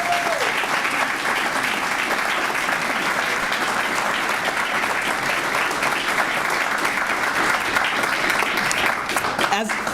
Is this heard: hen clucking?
no